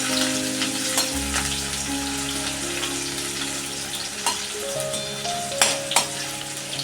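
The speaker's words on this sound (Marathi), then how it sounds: "आता कांदा टाकते कांदा चांगला परतून घेते मी" Onion frying in hot oil with cumin and mustard seeds, sizzling steadily in a pan while a spoon stirs it, with a few louder scraping knocks toward the end; no voices.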